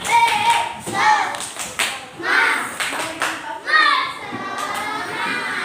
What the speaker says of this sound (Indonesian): sebelum kita mulai percobaannya, tepuk semangat.